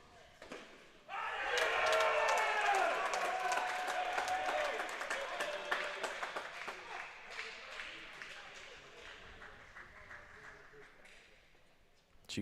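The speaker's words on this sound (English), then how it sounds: "So we hear a big roar from the crowd." Crowd cheering and clapping at a college men's tennis match, a sudden loud roar that swells, then fades gradually with scattered claps.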